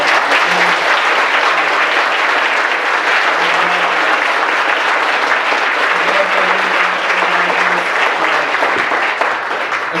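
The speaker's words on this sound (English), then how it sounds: "Round of applause." An audience at a town hall event applauds, sustained dense clapping lasting the whole stretch at an even, fairly loud level, with a few faint voices under it.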